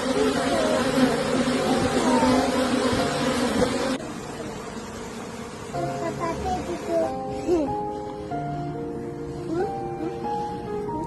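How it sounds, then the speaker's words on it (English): Stingless Melipona bees buzz steadily and close, with a dense insect hum through the first four seconds, then softer buzzing mixed with scattered tonal chirps and background sounds. "Stingless bees, also known as Melipona or Meliponi, are a special group of tropical bees that do not have functional stinger."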